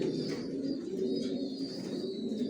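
Janssen line racing pigeons coo steadily inside a loft, a dense continuous low murmur of many birds close by, with no voices.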